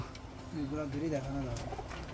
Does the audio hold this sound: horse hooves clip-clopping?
no